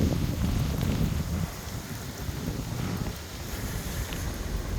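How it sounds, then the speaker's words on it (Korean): Strong gusts of wind buffet the microphone outdoors, producing a steady, loud roar and rumble that swells and eases slightly throughout; no one speaks. "이거 바람이 강풍이 장난이 아닙니다"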